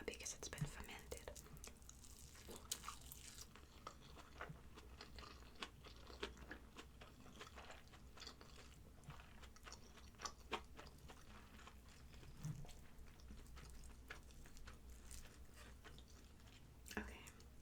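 Chewing on injera, the sour fermented-grain Ethiopian flatbread, with soft wet bites and crunches repeating close to the mic under quiet whispered talk.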